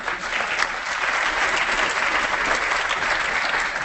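Steady audience applause fills a conference hall at the AMA National Conference, dense clapping from many hands held at an even level throughout, without any talking.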